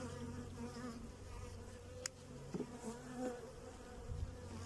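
Honeybees buzzing around an opened hive box at feeding time, a soft continuous hum with a few brief closer passes, faint and outdoors.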